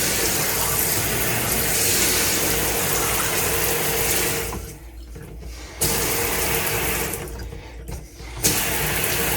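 Tap water runs steadily into a sink inside a Jayco camper while something is rinsed, with two short breaks where the flow stops before restarting, loud and close.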